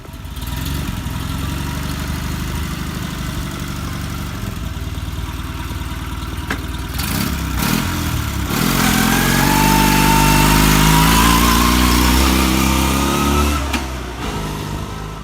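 A 1941 KS750 German military motorcycle engine idles with a steady low rumble, then revs up and rises in pitch before settling back down, close and loud.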